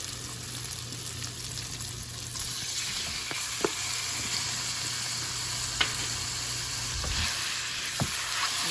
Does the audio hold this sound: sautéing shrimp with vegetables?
yes